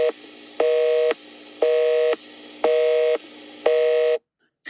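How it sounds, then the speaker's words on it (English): A telephone busy signal repeats after a call to a government official's phone: four steady, evenly spaced tone bursts with short gaps between them, loud and clear with no voices, before the line goes quiet. "I've called Prime Minister Philip Davis's phone"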